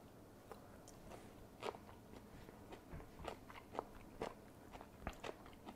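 Crunchy bites into a homemade dill pickle, a string of sharp, close crackling snaps spaced irregularly over quiet background, with no talking.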